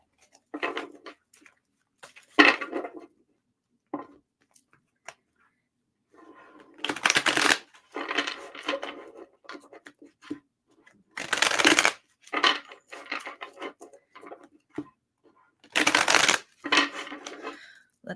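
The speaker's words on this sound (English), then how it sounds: "Just shuffling one more deck." A tarot deck being shuffled in several separate bursts of riffling and flicking, with quiet pauses between, close and crisp.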